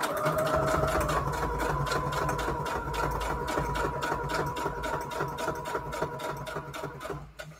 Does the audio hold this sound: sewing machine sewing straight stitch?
yes